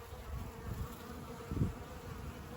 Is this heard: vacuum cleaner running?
no